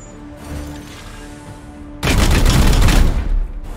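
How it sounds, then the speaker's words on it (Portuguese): Gunshots in the turn-based video game Warhammer 40,000: Chaos Gate - Daemonhunters, with quiet ambience first and then a sudden loud, dense burst of firing that stays heavy for over a second before fading. "vou ter que atirar na cara dele de novo"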